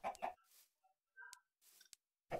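Chickens cluck in a Minecraft world, a few short clucks and chirpy blips scattered between quiet gaps along with faint clicks.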